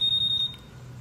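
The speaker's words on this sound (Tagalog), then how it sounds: "pagka may gumalaw sa motor mo, or, ayan, mag-a-alarm siya" A Honda ADV160 scooter's anti-theft alarm sounds, a close, loud, rapid run of high electronic beeps that cuts off about halfway through, leaving quiet background.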